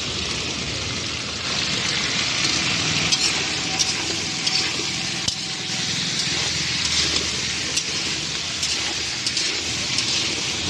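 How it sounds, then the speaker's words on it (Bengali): Food fries in a wok with a little turmeric added, giving a steady, loud sizzle and crackle that carries on evenly for the whole stretch, with no voices. "এবার একটু ভাজা ভাজা হোক"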